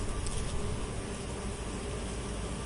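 Dense, continuous buzzing of many bees swarming close by, a steady droning hum with no pauses and no voices.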